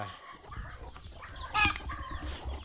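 A chicken caught for boiling in a rural field setting gives a short loud squawk or cluck burst near the mic, standing out over low background rumble and faint ambient noise.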